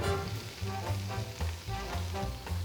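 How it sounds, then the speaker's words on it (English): Chopped vegetables and garlic cloves, seasoned with salt and pepper, sauté in a pot for beef stew, giving a steady close sizzle with soft stirring scrapes and clatters throughout. "let's saute this down"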